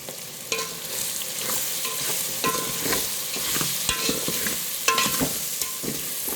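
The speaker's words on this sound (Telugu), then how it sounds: "టేస్ట్కి సరిపడా అన్ని కలిసేలాగా ఒకసారి కలుపుకోవాలి" Chili powder and salt being stirred into drumstick dal in a pan, a steady scraping stir with soft sizzling underneath and occasional louder clinks of the spoon against the pan, with no talk.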